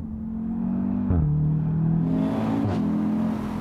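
An Audi TTS Roadster convertible engine in dynamic mode drones steadily while driving. It rises gradually in pitch and drops briefly twice as the gears shift, heard from inside the open car with no talking.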